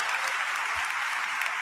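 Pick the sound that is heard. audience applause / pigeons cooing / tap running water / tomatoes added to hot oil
audience applause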